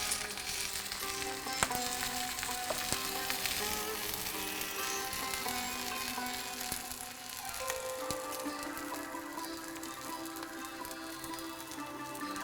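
Fish fries in hot oil in a pan, a steady close crackling sizzle with scattered pops that runs throughout without letting up.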